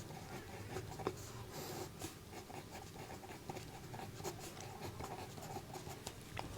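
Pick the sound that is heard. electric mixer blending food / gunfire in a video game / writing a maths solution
writing a maths solution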